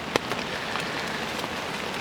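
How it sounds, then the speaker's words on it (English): Steady rain falls at a backpacking campsite in the Ponca Wilderness near Hemmed In Hollow, a dense continuous patter with a few sharper drops close by, and no voices. "It's just raining now."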